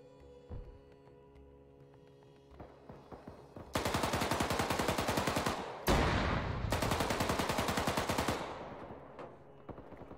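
Automatic rifle fire from the military shooter Arma 3, a weapon firing prone in long rapid bursts with a brief gap between volleys, loud and close over a faint background hum.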